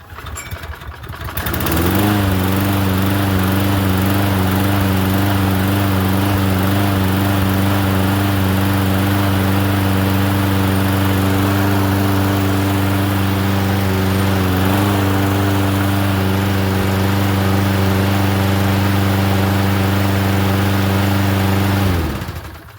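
A Toro Recycler 22-inch self-propelled lawn mower with a broken left front wheel starts up and runs, its small engine droning steadily and loudly close by for about twenty seconds before cutting off.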